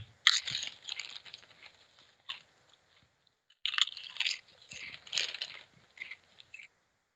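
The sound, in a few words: crunching potato chips, Chicago flavor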